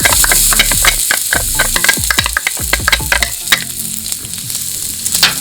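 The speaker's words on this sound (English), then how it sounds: "Now we're going to put in our shallots and our garlic." Shallots and garlic frying in hot oil in a wok for egg fried rice: a loud, steady sizzle with repeated sharp scraping and clanking of a spatula stirring, no voices.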